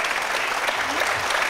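Studio audience applause during a televised Sunday entertainment show, a dense, steady wash of clapping from many hands at a constant loudness, with no speech on top.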